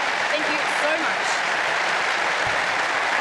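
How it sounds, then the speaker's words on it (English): Audience applause for the Sid Meier's Civilization VII development team at a February 2025 event: a dense, steady wash of many hands clapping at an even level throughout, with no break. "Can we please give another round of applause to our team?"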